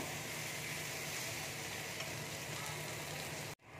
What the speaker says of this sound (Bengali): ভালো করে মশলাটা ভেজে নেব